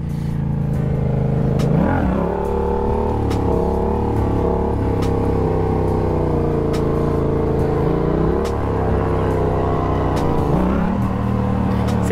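A Yamaha stunt motorcycle engine drones loud and close throughout while being ridden, its pitch rising and falling in a few smooth revs over a steady rumbling idle.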